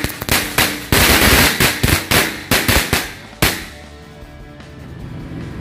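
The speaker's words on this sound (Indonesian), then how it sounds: "mercon korek Corsairs yang warna biru" Corsair blue match firecrackers set off outdoors, a rapid string of loud, sharp bangs with a few scattered pops, then a quieter fizzing tail as the bursts stop.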